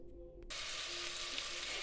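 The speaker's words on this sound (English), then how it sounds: "There's the onions frying nicely in some olive oil." Steady, hissing sizzle of onions frying in olive oil, starting abruptly after a brief quiet moment and continuing evenly.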